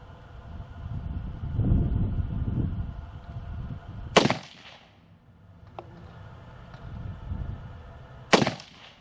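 Two sharp, loud rifle shots from a BCA-15 upper chambered in .223 Wylde, fired a few seconds apart, each a crisp crack with a short ringing tail, with quieter rumbling noise between them.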